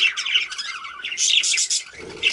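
Pet budgies chirp and chatter in quick, bright bursts, close and fairly loud, with warbling tweets overlapping and no human voice.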